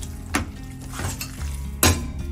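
Utensils scrape and clatter against a pan as tajarin pasta in tomato sauce is stirred, with a steady sizzle underneath and two sharper knocks.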